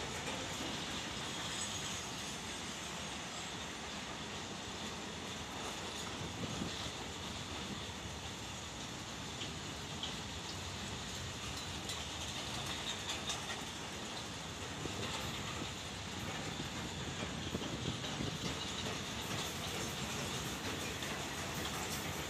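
A freight train rolls past Jeur railway station, heading from the Pune–Daund side toward Solapur, as a steady, faint, unbroken roar of wheels and wagons without voices.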